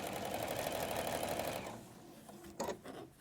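A sewing machine running a straight stitch whirs steadily for about a second and a half, then stops, leaving a few quiet clicks and knocks.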